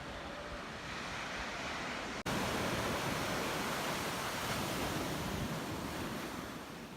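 Ocean waves roll onto a beach near the Hoh Rainforest in Olympic National Park, a loud continuous broadband surf roar with wind buffeting the microphone and a brief dropout partway through.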